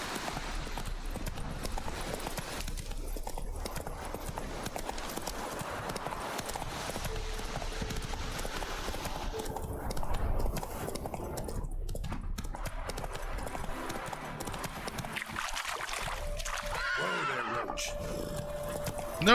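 Roach, the horse in The Witcher 3 video game, gallops with continuous rhythmic hoofbeats and neighs over a dense, steady game soundscape, loud and close throughout.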